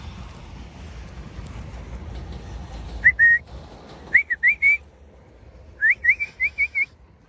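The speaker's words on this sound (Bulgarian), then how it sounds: "как си проглуших ушите със собственото си свиркане" A person in an open field on a morning walk whistles loudly to call birds: one short whistle, then two quick runs of sharp, rising, clipped notes, loud and close over a quiet outdoor background.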